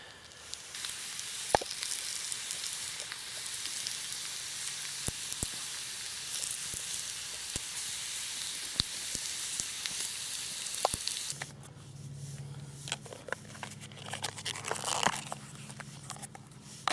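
Bacon frying in a pan at a rocky granite desert campsite, a dense continuous sizzle with scattered pops and crackles that gives way to a quieter, softer crackle near the end.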